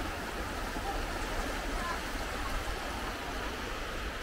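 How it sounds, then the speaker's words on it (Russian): Steady broadband rush of a small river flowing through green Borjomi, continuous and fairly close with no clear breaks, like water tumbling over stones. "Ох, какая речка"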